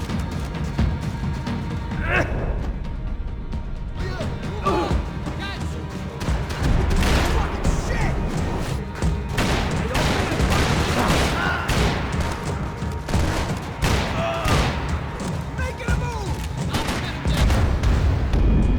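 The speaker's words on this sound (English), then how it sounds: "Gunfire over Hoboken." Gunfire in the video game Max Payne 3 set over Hoboken: dense bursts of shots and booming impacts crackle continuously at close range, mixed with crashes and game sounds, loud and busy throughout.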